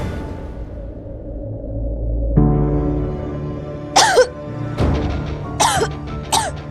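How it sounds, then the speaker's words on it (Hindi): A woman coughs in several sharp bursts, close and loud, over a low background hum from an Indian television drama scene. "अरे ऐसे खांस क्यों रही है?"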